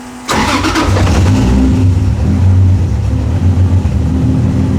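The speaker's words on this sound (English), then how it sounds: "E85 cold start" A car engine cold-starts on E85 fuel: a brief cranking catch, then an abrupt loud fire-up that settles into a high, rumbling fast idle with slight wavering revs, close-up and alone.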